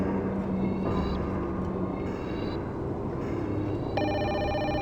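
An office telephone rings in the 1996 FMV adventure game Urban Runner, with repeated bright electronic ring bursts in a regular pattern over a low room hum, and a louder ring near the end.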